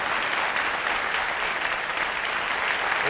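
Steady studio audience applause on a late-night talk show, a dense, even wash of clapping filling the whole stretch at full volume with no voices on top.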